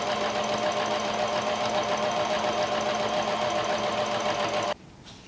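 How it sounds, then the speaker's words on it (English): A sewing machine stitches down the folded fabric edge of a face mask in one continuous, rapid, close run before stopping abruptly near the end. "And now we're going to sew that folded edge down."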